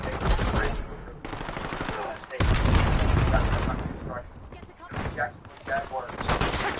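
Heavy gunfire in a Call of Duty Black Ops 7 multiplayer match, with rapid automatic bursts and booming shots crowding together loudly, broken by short lulls and overlapping game noise.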